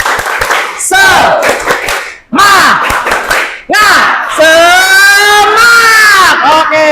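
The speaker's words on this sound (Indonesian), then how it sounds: "sekarang kita tepuk semangat" A class of students performs a rhythmic Indonesian spirit chant, rapid group clapping in bursts alternating with loud shouted chanting voices, close and energetic.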